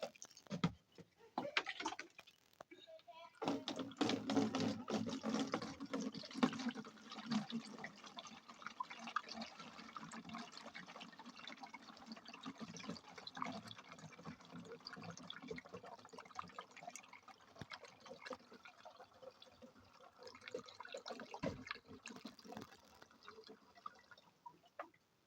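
Engine oil poured into a car engine during a home service makes a faint, gurgling liquid trickle that starts after a few seconds and runs on unevenly, with occasional quiet handling noises.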